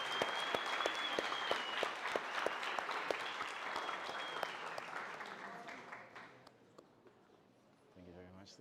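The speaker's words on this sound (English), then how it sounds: "give them a round of applause" An audience at an awards ceremony claps loudly in a steady burst that gradually thins and fades, with a few voices under it near the end.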